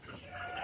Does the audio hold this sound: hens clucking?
yes